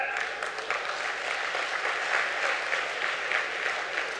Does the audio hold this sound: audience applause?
yes